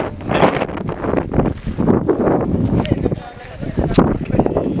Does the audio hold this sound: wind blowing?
yes